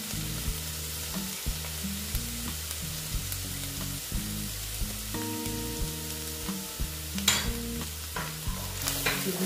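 Spices for a pomfret fish curry fry in a pan with a steady close sizzle, while a spatula scrapes and stirs through them in a repeated rhythm, with no talk.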